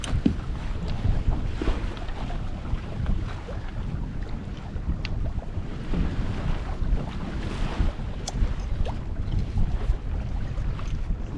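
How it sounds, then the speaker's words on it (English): Steady wind roars and buffets the microphone aboard a 20-foot sailboat off the Dengie Peninsula, with water washing against the hull in a continuous, close, full-bodied rush that never lets up. "Wind's picking up, it's getting a bit chillier."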